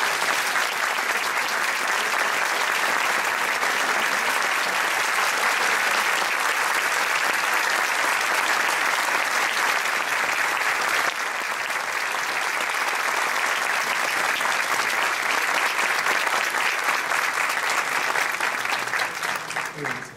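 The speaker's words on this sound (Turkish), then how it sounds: "Evet, alkışlarınızı isterseniz" Sustained, loud applause from a lecture audience welcoming Abbas Kiarostami at Cermodern in Ankara, a dense even wash of many hands clapping throughout, tapering slightly at the very end.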